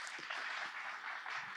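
A brief burst of audience applause at an afterwork conference on health entrepreneurship, steady dense clapping from a seated crowd, moderately faint and continuous, with no talking over it.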